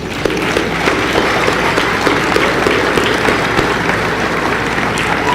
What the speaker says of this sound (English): Please join with me, class, in giving this group a round of applause.